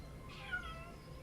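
A house cat gives a single short, soft meow, close by and quiet, over a faint room hum.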